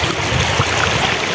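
River water flows steadily and close by at the Sabangan River in San Rafael West, a dense, continuous wash of noise with no voices.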